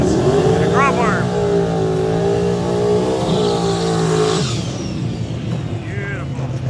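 A stick-shift Honda street car in a drag race roars hard under acceleration, its engine climbing through the gears and then backing off, while a commentator talks over it.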